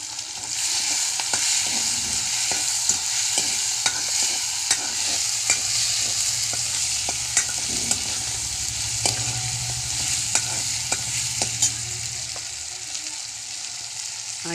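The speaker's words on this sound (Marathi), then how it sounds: "घेवड्याचं कढईत तेल तापत ठेवलेलं आहे आणि मी त्यात हे टमाटे केलेलं, कढीपत्ता, हळद" Tomatoes, curry leaves and turmeric fry in hot oil in a kadhai on a stove, giving a continuous close sizzle punctuated by regular clicks of stirring throughout.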